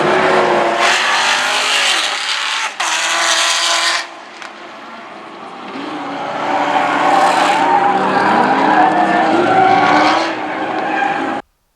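Race cars, including a Honda S2000 with a 2-liter 4-cylinder engine and a Camaro, roar past on a track at close range, engines revving and tires squealing, the sound swelling and fading as each car passes, then cutting off abruptly.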